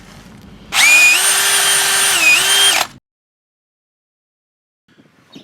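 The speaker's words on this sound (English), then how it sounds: "I'm just gonna use a wire brush on a drill here" A power drill fitted with a wire brush whirs steadily for about two seconds while cleaning metal RV brake parts, its pitch dipping briefly mid-run, then cuts out, leaving near silence.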